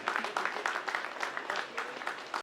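An audience at a song launch event claps steadily, a dense patter of applause that continues throughout before cutting off at the end.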